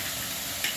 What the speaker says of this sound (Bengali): এবারে রসুন বাটাটা আর আদা বাটাটা দিয়ে দিচ্ছি।